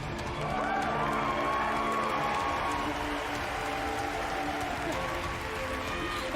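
A large crowd at the Bethesda E3 live show roars and cheers in a steady, dense wash of noise that sounds distant and continuous, with faint talking mixed in.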